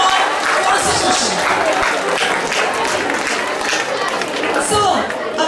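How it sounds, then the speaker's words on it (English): A school audience at a Republic Day assembly applauds continuously and loudly, with crowd chatter and cheering mixed into the steady clapping. "So, a big round of applause not only for class teachers, our social science teachers also."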